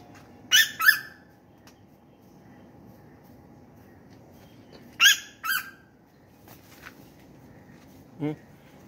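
Several birds calling in a city garden plot while contesting territory: short bursts of sharp, high calls around the start and middle, then a brief lower call near the end, over a steady faint background hum.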